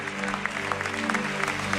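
A worship congregation claps in quick, steady rhythm, a dense crowd of hands heard close over sustained music.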